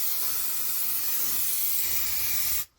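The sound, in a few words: aerosol fly and wasp killer being sprayed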